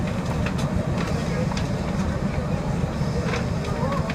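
Steady low rumble of a train approaching Spalding station, heard from on board as a continuous mechanical drone with faint rail clatter and a voice speaking.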